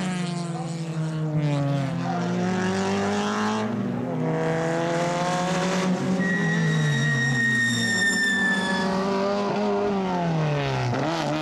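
Touring race cars battle at the Dolna Mitropolia circuit, their engines wailing and sweeping up and down in pitch as they pass close by, one overlapping another in a continuous roar.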